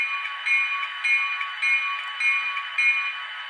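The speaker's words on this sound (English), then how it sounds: "F1 bell." A steady, repeating electronic bell rings continuously, clanging at a regular beat of about two strikes per second, from the DCC sound system of an Atlas HO-scale GP40 model diesel locomotive.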